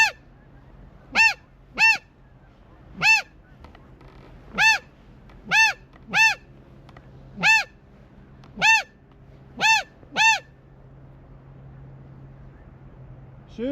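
A flock of geese honks during a waterfowl hunt at a blind: about eleven loud, clear honks come singly or in pairs at uneven intervals over a quiet, low background hum.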